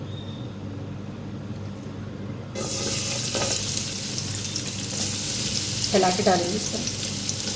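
Sliced onions drop into half a cup of hot oil and burst into a steady, loud sizzle that continues to the end, with someone talking just before they go in.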